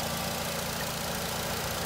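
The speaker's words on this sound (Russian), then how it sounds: "Двигатель работает мягенько." Steady, low idle of a 2.0-litre Nissan Qashqai 4WD petrol engine, heard close under an open bonnet, even and continuous with no voices.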